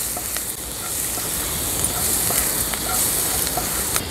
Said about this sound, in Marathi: आता लसूण तेलावर आपल्याला परतून घ्यायचं आहे।